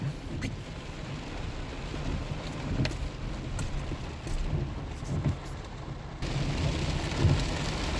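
Heavy rain pounding a car while driving, a dense steady roar with road rumble underneath and louder drumming toward the end, no voices.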